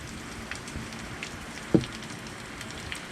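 Heavy rain pours down outside a catio in a steady, dense hiss, with a single sharper patter standing out briefly partway through.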